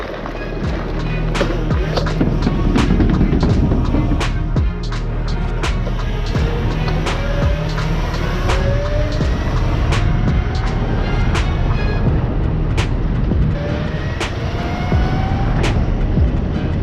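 A 72V Razor MX650 electric street bike rolls over gravel, giving a loud, continuous rumble with crunching stones and a whining motor, steady throughout and with no talking.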